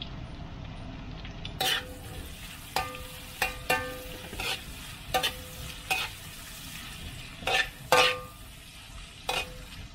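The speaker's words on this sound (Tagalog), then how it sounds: "maluto ng konti yung sibuyas" Onions stir-fry in a pan for homemade pancit canton: a low background sizzle broken by about eight sharp, scraping strokes of a spatula against the metal at uneven intervals.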